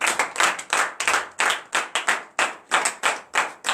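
A church congregation claps in bursts, loud and close, with short gaps between waves of applause and no voices on top.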